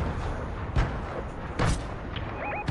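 A video game grenade explosion: two or three dull booms rise over a steady background of game noise, fairly loud and close.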